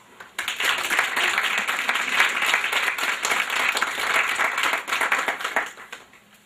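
An audience applauds steadily at a College and University Work Families Association event as a speaker is welcomed to the stage, the clapping dense and sustained for several seconds before tapering off.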